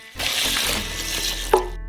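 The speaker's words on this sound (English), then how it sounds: "Pour in 2 liters of water." Two liters of water pour into a saucepan holding a kilogram of buckwheat, making a continuous close splashing gush for under two seconds that ends with a small slosh.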